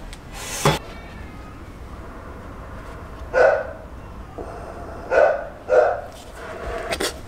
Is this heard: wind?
no